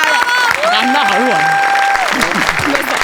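A studio audience at a Marathi comedy show claps in a dense, steady burst while a host speaks over it, the applause filling the whole stretch loudly.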